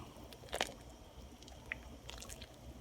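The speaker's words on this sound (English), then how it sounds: "I'm gonna add 1 cup of white rice and give it a stir." One cup of white rice is tipped into a pot of chipotle-broth albondiga soup and stirred, giving a soft wet squish and light patter followed by faint liquid stirring, quiet and close.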